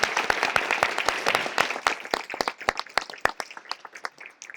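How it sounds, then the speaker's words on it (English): Applause from an audience at an educators' awards summit honoring military-community teachers, starting as dense clapping that thins into scattered, distinct claps fading toward the end. "Let's have a round of applause for Mr."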